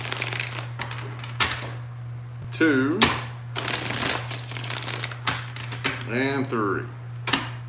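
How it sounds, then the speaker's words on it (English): Tarot cards being shuffled during a mini reading, a few brief crisp riffling bursts between counted-out words, with a steady low hum underneath and a person talking throughout. "3 more shuffles."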